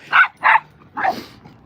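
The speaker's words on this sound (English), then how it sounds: "Some dogs can only play with their barking." Three sharp, close barks from a dog at play in quick succession, the last one trailing off into a softer, drawn-out yelp.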